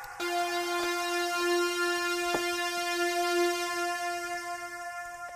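A bright tonal hit rings out and hangs in the air, its harmonics lingering in a long, slowly fading reverberant tail from a FabFilter Pro-R reverb plugin.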